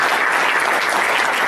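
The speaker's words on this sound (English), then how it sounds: "let's first have a big round of applause to the panelists" At a conference plenary on corporate responsibility and sports, the audience gives a brief burst of dense, steady applause for the panelists, with no talk over it.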